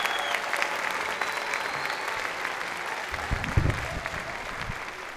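Steady audience applause fills a graduation ceremony, a dense even clatter of many hands heard at moderate distance with faint voices beneath.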